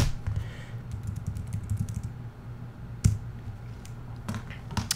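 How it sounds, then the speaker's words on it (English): Someone types a password on a computer keyboard while installing Mac OS X Yosemite, giving a scattered run of soft key clicks over a steady low background hum, with a sharper keystroke near the middle and a few more at the end. "I'm going to type in my password."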